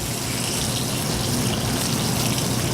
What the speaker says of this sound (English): We're going to get our pan hot here, and then we're going to put this in our pan